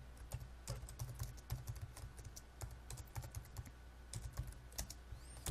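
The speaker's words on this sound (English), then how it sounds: "let's type some stuff here" Computer keyboard being typed on: a close, quiet, steady run of quick key clicks in irregular bursts, no voices.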